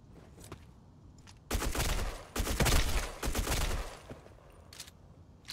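Bursts of Type95 rifle fire rattle out in the Black Squad shooter game, loud rapid volleys in a few clustered strings separated by brief pauses.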